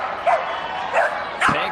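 Border collie at a dog agility event: three sharp, high yipping barks spaced about half a second apart, close and loud, with a whiny edge over a quiet background.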